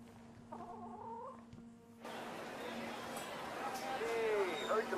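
A chicken in the video game ARC Raiders gives a few short clucks early on, then a character's speech takes over, with game ambience and a steady hum underneath.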